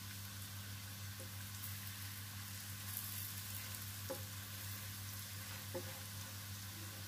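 Chana dal tikki frying in a pan over a low flame, a steady soft sizzle running throughout with a few faint clicks, no voices.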